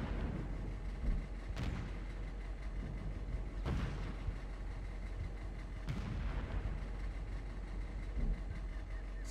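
Artillery fire during a fire mission in the video game Operation Flashpoint, three heavy booming shots spaced about two seconds apart over a constant low rumble.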